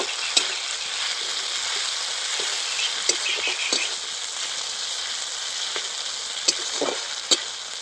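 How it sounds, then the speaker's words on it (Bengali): Poppy seed and green chili paste frying in a pan, a steady bright hiss of sizzling oil with occasional soft stirring scrapes and taps, close and unbroken by voices. "এবার পোস্ত আর লঙ্কা বাটাটা দিয়ে দিচ্ছি। খুব ভালো করে এবার কিছুক্ষণ নেড়ে নেব।"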